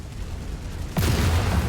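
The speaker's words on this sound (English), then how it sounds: "Explosions!" Quiet rumbling ambience in the video game MechWarrior 5, then a sudden loud explosion at about one second followed by sustained booming rumble.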